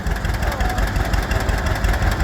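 A restored 1946 John Deere Model H tractor with dual rear wheels chugs along in an antique engine parade, its steady, rhythmic engine putt loud and close.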